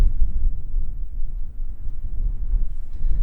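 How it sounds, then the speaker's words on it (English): Strong wind buffeting a microphone outdoors in open Washington country during a mule deer shed hunt, a continuous low roaring rumble that surges and dips slightly, loud and close throughout with no other sounds. "It's windy as hell, guys."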